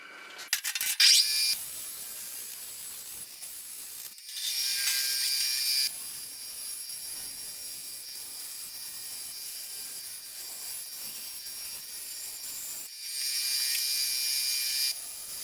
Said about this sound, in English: So start cutting it out and start to cut some aluminium.